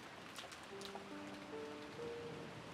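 Steady rain falling in the Umineko When They Cry visual novel, a constant soft hiss running throughout, with faint sustained musical tones rising and holding above it.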